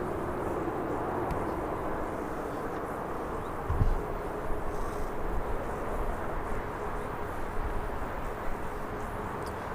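An Airbus A380 at Birmingham Airport gives off a steady, distant engine roar, a broad low rumble holding level throughout with a brief thump near the middle and no talking.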